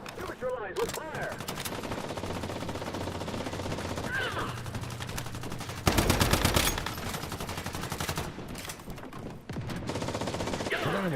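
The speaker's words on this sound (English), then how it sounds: "I don't know what you guys are shooting at" Rapid automatic gunfire in the survival shooter Once Human rattles in dense bursts, with a loud sustained volley near the middle and quieter shots around it, while a voice talks over the fighting.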